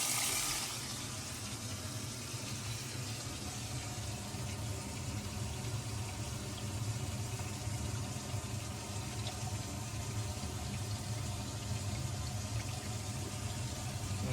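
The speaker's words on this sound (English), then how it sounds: "let's turn our water on and make sure we got no leaks" Water runs steadily from a kitchen tap into a sink with a newly fitted garbage disposal underneath, a continuous rushing splash with a low hum beneath it, unbroken for the whole stretch.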